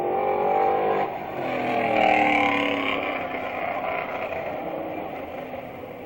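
Race cars at Merrittville Speedway accelerate behind a pace car under caution, their engines rising in rolling, overlapping revs that sweep upward and then settle into a sustained drone at moderate distance.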